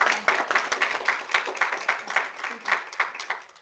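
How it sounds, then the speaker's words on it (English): A small group of people clap for medical students in a round of applause, with steady close hand claps continuing evenly throughout. "we'll just do a round of applause for our students right now"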